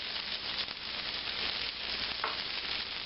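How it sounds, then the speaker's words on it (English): Onions and peppers for Texas fajitas sizzle steadily in a hot pan, a close, even crackling hiss that runs throughout with a brief stir partway through. "I've just turned the onions over and stirred the peppers"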